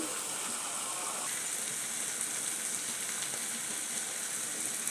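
Tomatoes sautéing in a pan for Tamil-style egg gravy give a steady, close sizzle with fine crackling that holds level throughout, alone with no voices.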